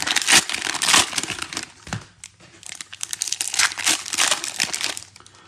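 Cellophane wrappers on trading card packs crinkle and tear open in bursts up close, loud crackling rustles with a brief pause in the middle before more crumpling.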